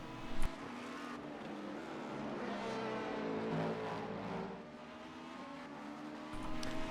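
Racing-game car engines roar steadily throughout as a Cadillac hypercar closes in and sweeps past in an IMSA race, a loud, continuous revving drone with a brief thump near the start and rising again at the end.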